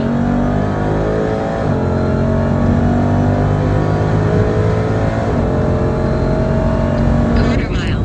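A 900hp Jeep Trackhawk launching hard, its supercharged engine roaring loud and close in one sustained pull, pitch climbing steadily as it accelerates.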